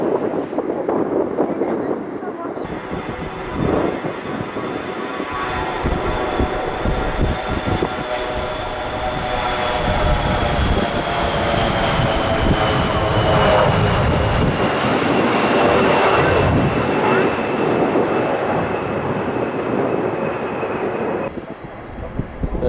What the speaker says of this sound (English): There she goes, just gliding down the taxiway like jumbos do.